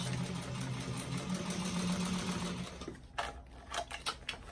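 A sewing machine runs a bag seam with a backstitch, its motor humming in a steady, close whir for a few seconds before stopping into light clicks and handling noises.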